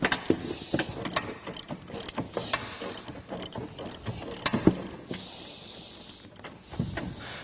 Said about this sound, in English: What we're using here is an 18mm socket with a 3-inch extension.